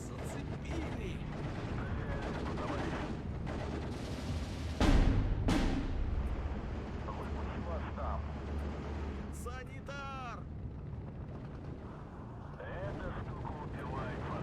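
Mortar shells and scattered gunfire from the WW2 strategy game Steel Division 2 thud and crack at moderate distance, with one heavy blast standing out midway over a steady rumbling battle bed.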